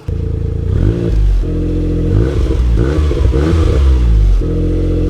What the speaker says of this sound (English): I'm gonna give you a couple revs.